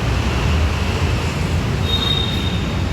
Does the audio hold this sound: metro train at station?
yes